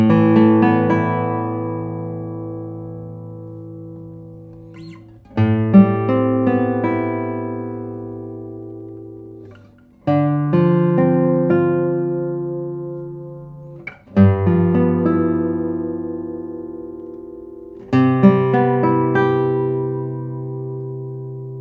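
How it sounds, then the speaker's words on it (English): A Santos Hernandez classical guitar played alone, five slowly spaced, strongly strummed chords that each ring out with deep resonant bass and long decay, clear and close. "Let's see how the guitar sounds."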